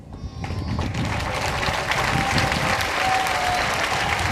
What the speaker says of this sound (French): Ils applaudissent pour vous.